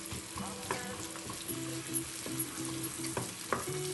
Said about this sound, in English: Just let it saute a little bit.